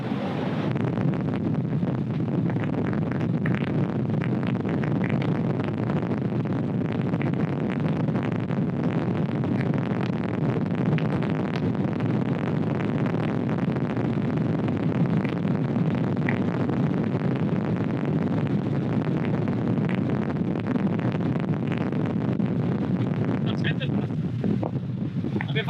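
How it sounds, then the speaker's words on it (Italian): A 1000-horsepower powerboat planes fast across choppy water, its engine and hull roar a steady, loud, dense rush buffeted by wind on the microphone for the whole stretch. "Si sente che la barca vola sull'acqua."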